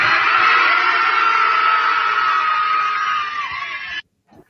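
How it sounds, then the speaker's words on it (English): Crowd of protesters in San Francisco screaming during the presidential inauguration: a loud, sustained wall of shrill voices lasting about four seconds, then cutting off abruptly to near silence. "Lefties in San Francisco screaming during the inauguration"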